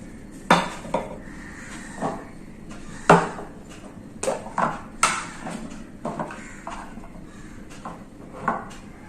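Homemade yellow and orange colours being stirred together in a small dish, a spoon clinking against the container in irregular taps and scrapes, close and moderately quiet with no talk.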